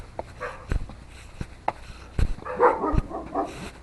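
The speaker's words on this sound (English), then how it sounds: "now the dogs are all barking" Dogs bark outdoors at a home after a long walk, scattered sharp barks and yips at irregular intervals with some whimpering, moderately near, no voices over them.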